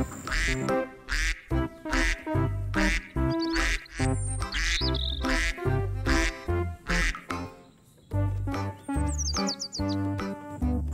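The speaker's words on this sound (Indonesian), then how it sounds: "ada bebek juga teman-teman." Loud, repeated duck quacks in quick bursts, close by and almost continuous, with a couple of brief high chirps mixed in.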